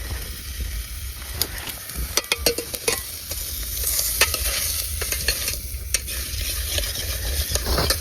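Maggi noodles cooking in a pan with little oil on a farm at night are stirred continuously, giving scraping and clinking over a steady sizzle and hiss. A high whine and low rumble run in the background.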